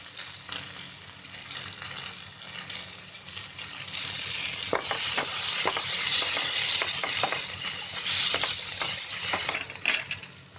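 Tomato chicken masala being mashed and stirred as it fries in a kadai, a steady close sizzle with frequent sharp scraping strokes of a spoon against the pan, growing louder midway.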